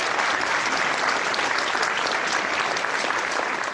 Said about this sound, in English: They do deserve a round of applause.